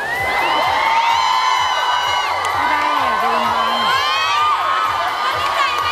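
A concert audience at a show cheers and shouts. High-pitched whoops and screams rise over a thumping rhythmic beat, and the crowd noise stays loud and sustained from start to finish.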